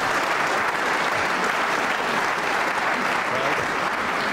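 A Crucible snooker crowd at the 2010 World Championship breaks into loud, sustained applause for several seconds, steady and close.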